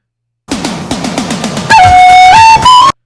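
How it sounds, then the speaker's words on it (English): A flute rendition of a sound clip, starting with a quick run of repeated short rhythmic notes and then moving into loud sustained whistling tones that slide in pitch, close and alone. "Here I have a flute version of it"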